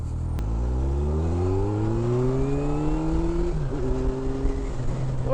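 A motorcycle engine pulls away on a ride, its pitch climbing steadily through a long gear, then dipping at a shift and rising again, loud and close over rushing wind.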